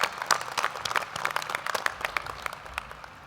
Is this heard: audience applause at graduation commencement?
yes